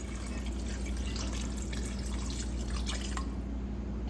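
Beef broth poured into a braising pot for bourbon-braised beef, a steady continuous liquid stream and drip running the whole time at close range with no talking.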